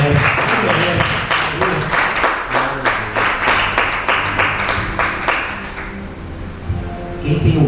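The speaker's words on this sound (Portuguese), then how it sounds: "Salve de palmas." A church congregation claps in strong rhythmic unison, with loud, evenly spaced slaps over several seconds and voices faintly underneath, before the clapping fades into scattered sound near the end.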